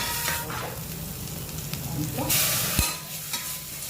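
Peppercorns, garlic, onions and carrots for carrot soup sizzle and fry in a pan while being stirred with scraping strokes, steady and close, with a voice speaking over it.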